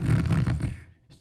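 A man imitates snoring with his voice during a comedy club stand-up set, producing loud, raspy rumbling breaths for about a second before trailing off into quiet.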